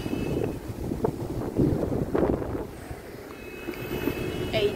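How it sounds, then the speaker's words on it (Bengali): Strong wind gusting in an open park buffets the microphone with uneven, rumbling roars that rise and fall. Faint background sounds lie underneath. "প্রচন্ড বাতাস রে বাবা, দেখো কত সুন্দর বাতাস।"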